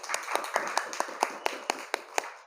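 A group at a school speech gathering gives a short burst of applause, with about ten distinct, evenly paced claps, fairly quiet and slightly distant, and no voices over them.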